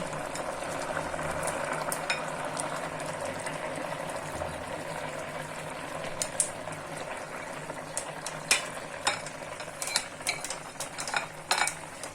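Silver carp pieces going into a simmering cauliflower, potato and tomato curry, a steady low bubbling under sharper clinks and stirring scrapes that grow more frequent toward the end.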